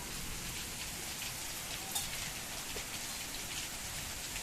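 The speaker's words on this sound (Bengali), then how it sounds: "বৃষ্টি পড়ছে দেখ" Soft, steady rainfall patters continuously on a surface, even and fairly faint, with no voices.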